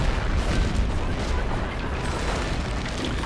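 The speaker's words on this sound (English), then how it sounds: "Yes, it's a terror barrage." Artillery terror barrage in the WWII strategy game Company of Heroes, on a 4v4 Operation Market Garden battle: a dense, continuous rumble of overlapping booms with no single blast standing out, moderately loud throughout.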